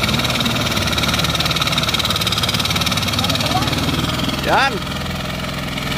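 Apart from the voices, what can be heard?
Pagong hand tractor engine running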